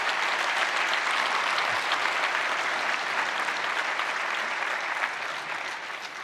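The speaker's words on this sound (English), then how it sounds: "can we just have one more big round of applause for everybody working, presenting, and talking in not their native language?" Loud, sustained applause from a conference audience filling the room, steady throughout and easing slightly toward the end, with no one speaking over it.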